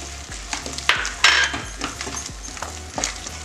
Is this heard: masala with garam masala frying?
yes